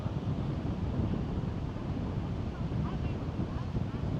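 Steady wind buffeting a microphone beside Lake Michigan in Chicago, a dense low rumble that roars continuously throughout without letting up.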